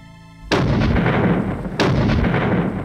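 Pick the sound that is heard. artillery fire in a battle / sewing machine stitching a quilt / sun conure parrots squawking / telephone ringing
artillery fire in a battle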